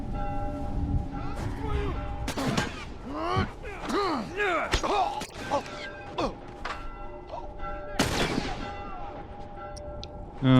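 Several sharp gunshot cracks ring out amid The Last of Us game ambience and a voice, with a loud burst near the end.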